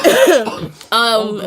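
A person in a podcast studio gives a short, hoarse cough followed by throaty vocal sounds close to the microphone, with voiced chatter or chuckling right after.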